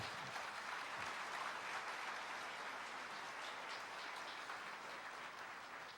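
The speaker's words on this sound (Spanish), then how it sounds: "Si tú puedes hacer, dale un aplauso al Señor." A church congregation applauding, a faint, dense wash of clapping held steady for several seconds and slowly tapering.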